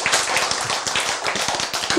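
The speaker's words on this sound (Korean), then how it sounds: "박수!" An audience at a Korean sermon-style lecture claps together, a brisk run of sharp, closely spaced hand claps filling the short clip at moderate loudness.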